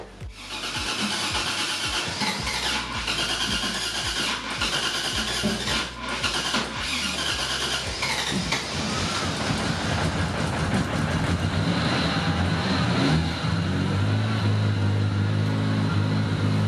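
A Toyota Cressida with a 548 hp 1J engine cranks, catches and runs with a rough, loud, close idle, building to a heavier throbbing drone near the end.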